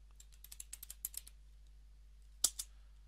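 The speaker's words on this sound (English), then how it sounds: "Oh yeah, my famous typing" Typing on a computer keyboard, a quick run of light clicking keystrokes followed by a short pause and two sharper final key taps, close and quiet with no talking.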